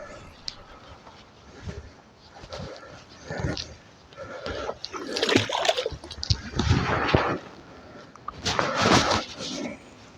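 A 32-inch, 16-pound catfish is released back into the Red River, with close splashing and sloshing of water building in bursts amid handling noise.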